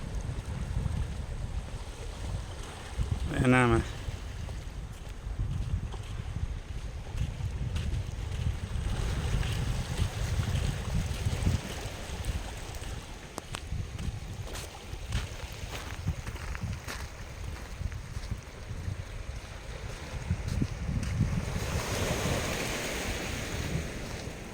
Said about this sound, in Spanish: el sonido del mar